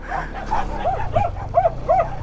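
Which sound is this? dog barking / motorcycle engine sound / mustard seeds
dog barking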